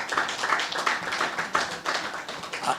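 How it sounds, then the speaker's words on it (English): Applause at a 2025 annual general meeting as shareholders clap for the board and management, a fairly small group of hands with uneven clapping that swells and dips over about three seconds. "I think you deserve a round of applause for that."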